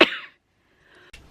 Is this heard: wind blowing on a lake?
no